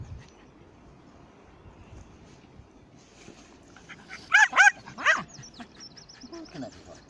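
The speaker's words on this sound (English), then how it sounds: "I don't understand why you're barking at me." A dog on a morning marsh walk gives a few short, sharp barks and yips close by after a quiet stretch, with soft whimpering sounds around them.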